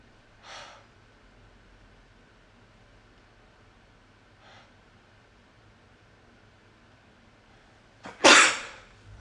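One person sneezes a single loud, explosive time near the end, close up, after a long quiet stretch broken only by a couple of soft breathy sniffs and inhalations.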